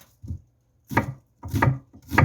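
Onions are sliced on a chopping board with a knife, giving four distinct, close, dull thuds with short pauses between them.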